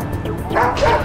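A German shepherd search dog working through a mock earthquake-collapsed prefab building gives a quick pair of yips and whimpering barks, brief and close, against rough background noise.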